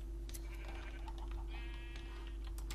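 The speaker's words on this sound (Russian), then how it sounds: "Это бешеная овца." Sheep bleating in a farm video game, two short wavering bleats in quick succession over a constant low hum and faint ticking, moderately close and fairly quiet.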